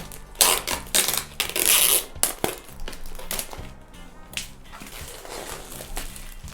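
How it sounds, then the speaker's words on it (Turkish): A plastic bag around a Sony WH-1000XM4 headphone box is torn open by hand, giving a close run of crinkling, ripping and rustling bursts that start and stop over several seconds, with no talking. "Şöyle kolayca yırtılıyor zaten poşeti."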